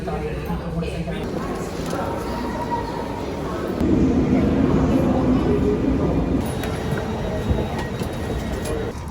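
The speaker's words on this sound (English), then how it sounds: "I'm on the train now." A Swiss train rolls along the rails with a continuous rumble that swells louder partway through, under a voice speaking nearby.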